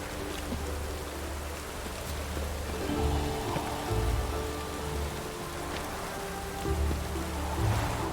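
Steady rain patters and hisses across surfaces in The Witcher 3, a constant even wash of drops with slight swells in intensity and no one speaking.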